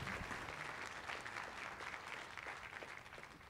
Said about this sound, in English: give Stephen and Louis a big round of applause